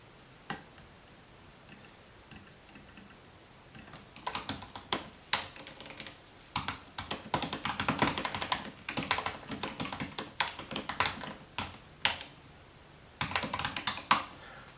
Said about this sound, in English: let me just show you some typing here